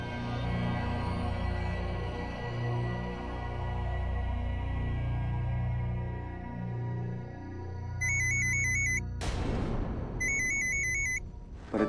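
A phone rings in a Marathi TV serial scene: a repeating electronic ring pattern over a dramatic music bed, with a loud swell between the rings.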